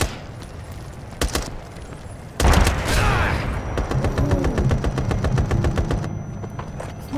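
Gunfire in a Brothers in Arms war video game: a few sharp isolated shots, then a loud burst and a long run of rapid automatic fire, close and continuous over background noise.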